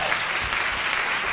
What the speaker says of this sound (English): Again, can we have a round of applause?